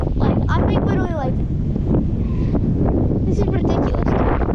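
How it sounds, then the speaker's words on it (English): Strong wind gusts outdoors beside a fishing pond, buffeting the microphone with loud continuous roaring rumble, while someone talks through it. "it has gotten insanely windy"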